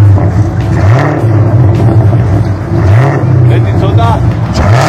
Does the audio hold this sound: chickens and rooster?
no